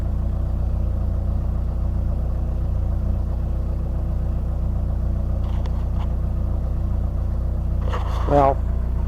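A 1973 Ford Pinto engine idles outdoors while warming up, a steady low rumble running throughout with a brief higher sound near the end.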